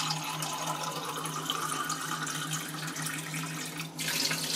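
Tap water runs steadily into a pot of rice for cooking chicken adobo, making a continuous splashing pour that holds at an even level, alone and close by.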